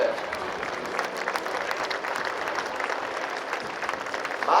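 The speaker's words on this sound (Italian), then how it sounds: "Applauso a T-Take." An audience claps steadily and densely at the Jesolo air show after a Yak aerobatic display, a broad continuous wash of applause from a large outdoor crowd.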